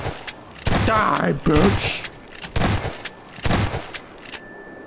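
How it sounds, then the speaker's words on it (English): Shotgun blasts in the Garry's Mod sandbox game, three or four loud broadband bursts spaced about a second apart, with someone shouting over the first ones. "I'll just grab a shotgun"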